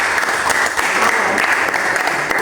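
Classroom applause as students clap together in a dense, sustained burst at close range, loud and even throughout, with no talking over it.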